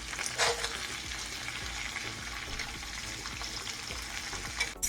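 Sliced potatoes and onions seasoned with garlic powder sizzle steadily in a hot pan, with scraping stirs from a utensil pushing them around, close and continuous with no talking.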